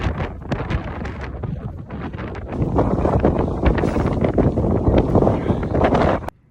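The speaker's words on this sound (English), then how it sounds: "we met this extraordinarily strong wind" Strong gusting wind in the Scottish mountains buffets the microphone in loud, roaring bursts that build and stay intense, then cut off abruptly at the end.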